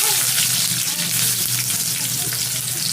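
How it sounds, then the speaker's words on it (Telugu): Onions sizzle steadily in hot oil in a village kitchen where crab fry is being made, a dense close crackle with faint talk beneath. "ఆయిల్ వేడెక్కిపోయింది ఎర్రగడ్డలు వేసుకుంటున్నాను నేను"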